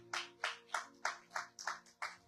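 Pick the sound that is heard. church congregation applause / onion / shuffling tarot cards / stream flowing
church congregation applause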